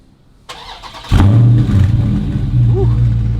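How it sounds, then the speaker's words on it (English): A Dodge Challenger Scat Pack engine cranks briefly, then fires into a loud, close idle rumble that settles steady, with a short burble partway through. "But first, we got to start this baby up."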